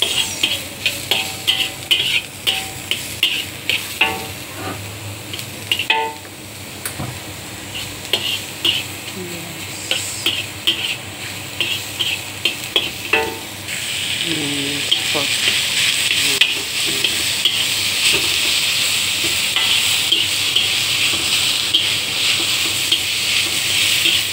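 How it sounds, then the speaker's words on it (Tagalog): Garlic and onion sauté in a little oil with minced pork nearby, a steady close sizzle that swells louder partway through, broken by repeated scraping stirs of a utensil against the pan. "igisa tayo ng bawang sa konting mantika."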